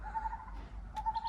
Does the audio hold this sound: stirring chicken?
no